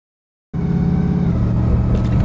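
A 1928 Ford Model A street rod idles and rolls through a tight turn. After a brief silence its engine rumbles in steadily at close range with a low, even drone.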